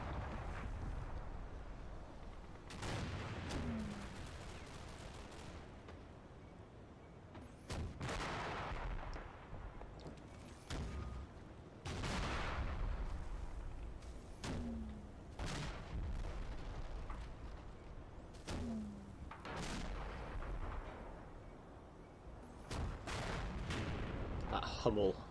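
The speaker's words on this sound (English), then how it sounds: "And that one's shooting at the mortar team in the village." Tank cannon and artillery fire in a World War II strategy game with Panther, Hummel and Sherman tanks, about ten heavy booms spaced a few seconds apart, some close and sharp, others duller and farther, over a steady rumbling battlefield backdrop.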